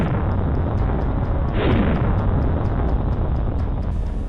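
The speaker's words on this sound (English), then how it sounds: "Dozens of rockets arced into the sky, striking Russian positions near the village entrance." Rumbling barrage of rocket artillery fire striking positions near a village, with a rising whoosh of a launch and dull booms, continuous and heavy, with no voices.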